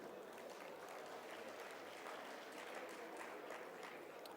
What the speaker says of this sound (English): I would like you to give a round of applause for Dato Sieko for her musical interlude.